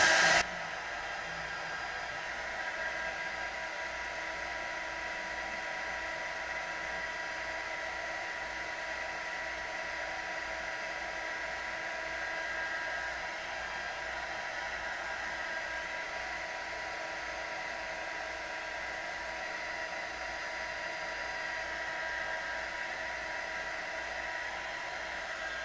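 A hair dryer blows steadily on a freshly poured acrylic paint piece, a loud continuous whooshing hiss that starts abruptly and runs unbroken throughout with no talking.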